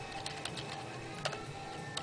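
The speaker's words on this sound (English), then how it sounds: "we will be typing in the artist" Quiet clicking of keys on a computer keyboard while entering song details, a few soft irregular taps over a low steady hum.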